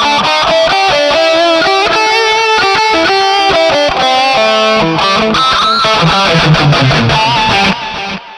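A distorted electric guitar on a MOOER GE200 brown sound preset plays a run of notes at gentle picking strength, each note still ringing clearly with crunchy grit.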